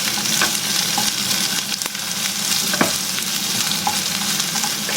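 Garlic and onion sauté in a pan for a simple Filipino lunch dish, a loud continuous sizzle with occasional sharp stirring clicks and scrapes.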